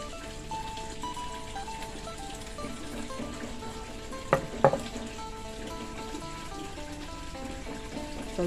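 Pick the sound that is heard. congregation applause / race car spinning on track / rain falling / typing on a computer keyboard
rain falling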